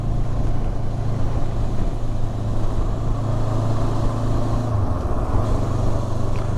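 A 2024 Honda NX500 motorcycle pulls through fourth gear with a continuous engine drone blended with heavy wind rush, steady and fairly loud from the rider's position.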